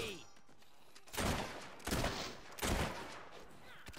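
Gunfire from the player shooting in the video game Fable 3, three broad bursts of shots about a second apart, fairly loud against a quiet game background.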